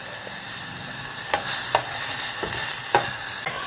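Carrot, onion and capsicum fry in a little oil in a pan, with a continuous close sizzle broken by several clicks and scrapes of stirring.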